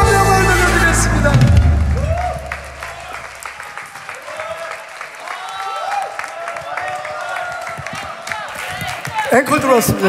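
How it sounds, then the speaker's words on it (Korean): A church congregation bursts into loud applause at an Easter service, first near and dense. The clapping then thins into scattered, rhythmic claps, with voices and cheering mixed in and a swell of clapping again at the end. "박수로 한번 영광을 돌려드리겠습니다"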